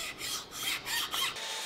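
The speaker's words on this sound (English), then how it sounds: "I actually finalized it with the file" A hand file rasps across a wooden katana handle in short, repeated strokes, dry scraping passes with brief pauses between them, close and fairly quiet.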